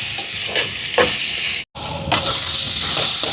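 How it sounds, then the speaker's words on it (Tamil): Onion, carrot and tomato sauté in a clay pot with a steady, close sizzling hiss, broken by a few soft stirring scrapes and one brief dropout in the middle. "இப்போ இது நல்லா வதங்கட்டுக்கும்."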